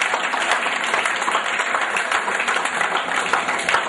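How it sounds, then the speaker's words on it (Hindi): A gathering in Noida applauds to welcome newcomers, a continuous wash of many hands clapping at a steady, fairly loud level with no voices over it. "मैं सब लोगों का स्वागत करना चाहता हूँ तालियों के साथ।"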